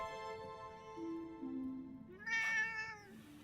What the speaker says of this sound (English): And here's our new kitty.